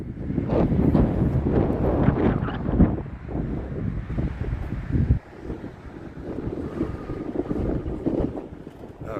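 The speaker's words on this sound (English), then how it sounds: "Oh, it's windy out here today." Strong wind buffets an outdoor microphone by a church in Virginia Beach, a continuous loud rumbling roar with gusty surges and a brief dip midway, no talking.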